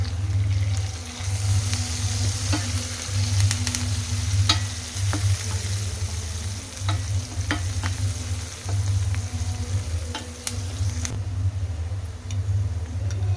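Chopped onion frying in hot oil with curry leaves and turmeric in a pan for a ridge gourd gravy curry, a steady close sizzle with a constant low hum and occasional small ticks and pops, no talking.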